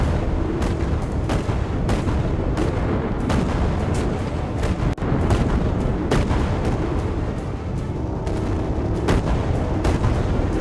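Gunfire in the Lost Skies video game, a dense run of rapid shots and booms crackling continuously at a loud, steady level with no talking.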